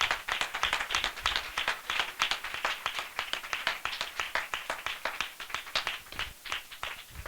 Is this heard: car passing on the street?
no